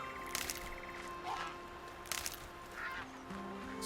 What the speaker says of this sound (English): as we hear the geese